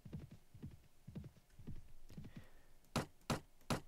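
Horses gallop on the road to Minsk in Mount & Blade: With Fire & Sword, a steady run of muffled hoofbeats in quick clusters, followed by three louder, sharper thuds near the end.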